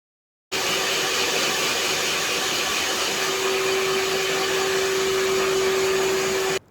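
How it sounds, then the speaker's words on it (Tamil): A hair dryer running in a salon gives a loud, steady, unbroken blowing roar that cuts in abruptly and holds for about six seconds. A faint constant whine rises within it partway through, then it stops sharply. "என்னடா ஹேர் ட்ரையரோட சவுண்டு அப்படியே கேட்க விட்டுட்டு நினைக்கிறீங்களா?"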